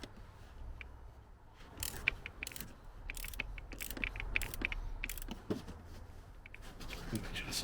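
Ratchet clicking in quick bursts while tightening a battery terminal on a 2007 Mercedes CLK 350 Sport Convertible, close up over a low background hum, with a voice speaking now and then.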